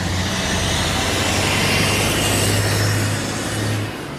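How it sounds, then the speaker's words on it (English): A concrete truck passes close by, a loud, broad engine roar with a low rumble that holds steady for several seconds and then begins to fade. "I just had to wait for this concrete truck to pass. It was so loud."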